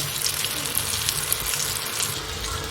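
Chicken shami kababs coated in egg fry on low heat in a pan, giving off a steady, dense sizzle that holds throughout with no talk over it.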